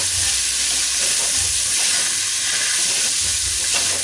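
Smoked paprika and spices sizzle loudly as they fry and are stirred in a pan for a veggie chili con carne, a dense, steady hiss running unbroken from start to finish with no voices.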